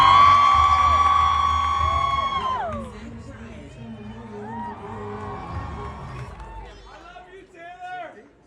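Crowd at the American Music Awards cheering loudly for a nomination, a dense wall of screams and whoops that fades to scattered shouts and renewed bursts of cheering.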